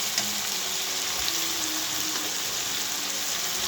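Turmeric-coated prawns and ridge gourd fry in a pan with a dense, steady hiss and sizzle, close and constant throughout, with faint crackles and no voices.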